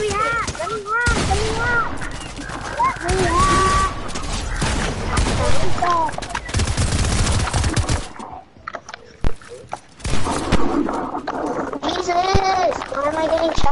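Rapid gunfire rattles through a Fortnite creative match in dense, repeated volleys and single cracks, loud and close, mixed with excited shouting and talk over much of it.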